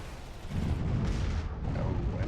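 Heavy weapons fire in the space strategy game Master of Orion lands as a deep booming blast that swells and rumbles for a couple of seconds, fairly loud and alone.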